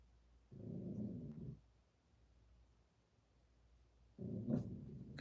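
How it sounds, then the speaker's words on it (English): A dog makes two low, growly bursts at close range inside a house, each lasting about a second, with a quiet stretch between them. "Can you hear my dog?"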